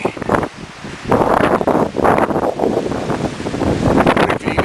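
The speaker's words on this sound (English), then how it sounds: "Look how crazy the wind is." Strong, gusty wind buffets the microphone on a cold day outdoors, roaring loudly in surging waves with brief lulls, nearly drowning everything else.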